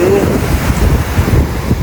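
Strong wind buffets the microphone on Ilig-Iligan Beach in Boracay, a loud rumbling gust over the wash of sea waves close by.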